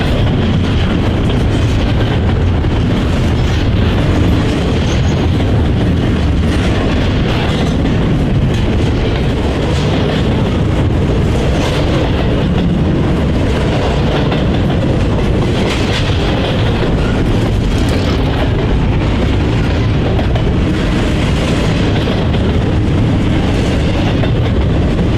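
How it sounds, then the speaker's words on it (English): Norfolk Southern 21T intermodal freight train passing, a loud continuous rumble with clattering wheels on rail held steady throughout, close and without voices. "The 21T is a daily intermodal train from Harrisburg, Pennsylvania to Kansas City, Missouri."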